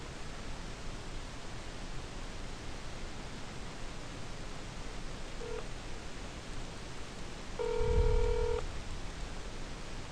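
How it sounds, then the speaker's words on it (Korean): Telephone keypad tones sound in a short run of stacked beeps, loud over a steady hiss of line noise, as a call is placed for a Korean live-broadcast phone connection. "전화 연결하겠습니다."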